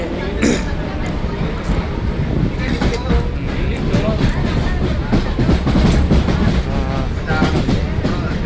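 A Chennai local commuter train rumbles along steadily with rattling carriages and occasional clanks, while people talk over the noise.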